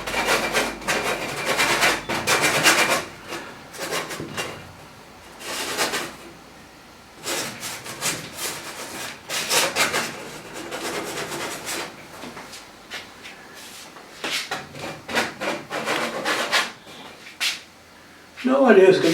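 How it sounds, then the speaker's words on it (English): Big trowel scraping and spreading acrylic paint across a landscape painting, giving repeated rough scrapes and rubs in uneven bursts, close and moderately loud. "Scraping some paint down, take a big old trowel here to lather on some colour on the edge of the trowel."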